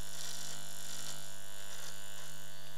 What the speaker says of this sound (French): Et puis là, comme c'est un rasoir électrique,